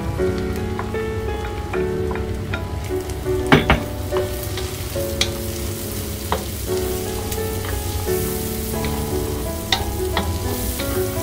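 Onion in butter, garlic and olive oil sizzles steadily in a pan, with a dense crackle and spatter under occasional sharp stirring clinks of a utensil, close and fairly loud, no talking.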